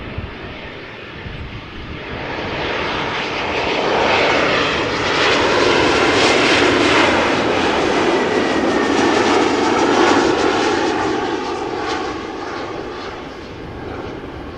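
A jet airliner on a flight from Marseille arrives at Amsterdam Schiphol Airport, its engine roar swelling loud and broad, peaking midway, then easing slightly as it passes close by, with no one talking.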